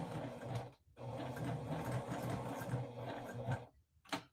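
A Juki sewing machine stitches a mini sampler quilt, its motor humming steadily and close for several seconds, stopping briefly once and near the end.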